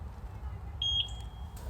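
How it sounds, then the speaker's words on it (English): A Eufy Floodlight Cam Pro 2 security camera gives a single short, high electronic beep after its sync button is held down, ringing out clearly over a low steady background hum. "Press the sync button until you hear the beep."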